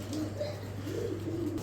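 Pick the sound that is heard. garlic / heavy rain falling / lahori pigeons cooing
lahori pigeons cooing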